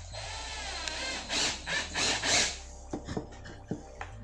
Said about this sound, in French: on va visser aux 4 angles, tout simplement, avec des vis autoforeuses pour éviter que ça n'éclate